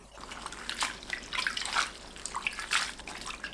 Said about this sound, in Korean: 황태채를 정수된 물 또는 생수를 넉넉하게 붓고 헹궈주세요.